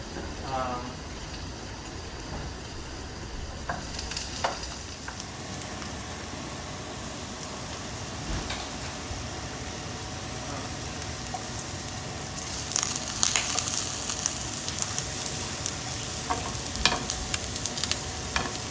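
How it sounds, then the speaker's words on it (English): Eggplant fries in hot oil at high heat, a steady sizzle with stirring scrapes and clatters that grow busier and louder in the second half. "put my eggplant in the oil"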